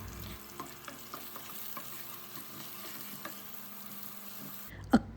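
Chana dal, urad dal, roasted peanuts, chopped ginger, curry leaves and green chillies sizzle steadily in hot oil as a spoon stirs them, a soft continuous crackle with scattered scraping taps, ending in one sharp knock.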